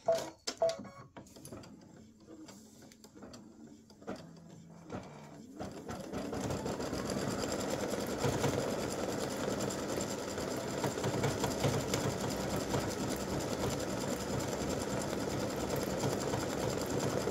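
An embroidery machine stitching out a freestanding-lace earring design runs with a fast, steady mechanical whirring and needle chatter that continues loudly for most of the stretch after a few quieter clicks and knocks at the start.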